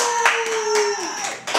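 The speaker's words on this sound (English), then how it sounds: "If you ninjas want to clap." A small live studio audience claps briefly during a comedy talk show, with a few quick bursts of hand claps layered over a steady tonal hum and music-like background.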